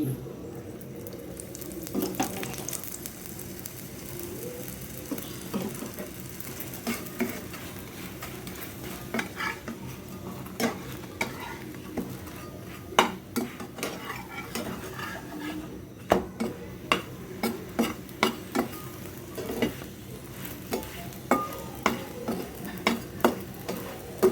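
A paratha fries in ghee in a pan, giving a steady low sizzle under repeated clinks and scrapes of a utensil turning and pressing the flatbread. The scrapes grow denser toward the end, close up, with no talk.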